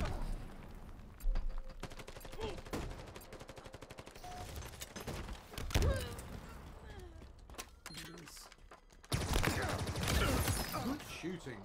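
Halo Infinite multiplayer gunfire, scattered shots and short bursts from weapons with game effects, moderately loud, with a heavier burst of fire near the end, under a player's voice.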